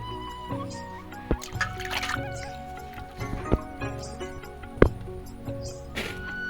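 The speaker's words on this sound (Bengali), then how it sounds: "আরও একবার জলে দিয়ে ধুয়ে নিচ্ছি" Cut potato pieces being rinsed in water in a Bengali home kitchen, with soft sloshing, dripping and a few sharp knocks against the bowl, fairly quiet and steady throughout.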